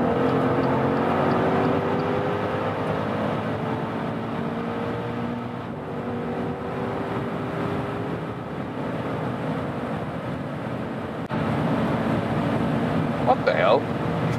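Maserati Levante Trofeo V8 with a Ferrari-built engine accelerating hard on a freeway from 80 to around 150 mph, a steady loud engine roar rising in pitch beneath heavy wind and road noise, with people talking over it.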